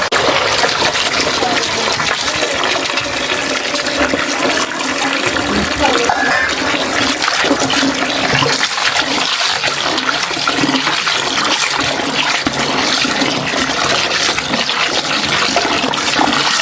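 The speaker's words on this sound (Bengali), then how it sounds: "মাংসটা একটু ধুয়ে দিয়ে যায় তাহলে আম্মুর সুবিধা হবে।" Raw meat is washed under a strong stream of running water, with a loud, steady gush that lasts throughout and a voice talking faintly underneath.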